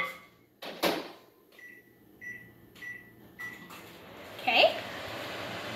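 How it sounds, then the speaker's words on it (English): Beeps from a microwave panel and a door clunk, then the oven's low steady hum runs, with a few more beeps near the end. "I'm gonna microwave them for 30 seconds."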